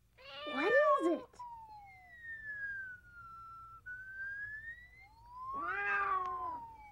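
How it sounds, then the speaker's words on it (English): A cat meows in a drawn-out, rising and falling call, opening with a loud wavering cry, trailing off into a thinner held tone, then ending with another strong, close meow. "Sí, es un gato."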